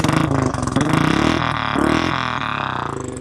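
A Royal Enfield Classic 350 motorcycle fitted with an aftermarket chrome exhaust pipe runs at close range. Its engine beats loudly and steadily, with a few throttle swells, and no one speaks.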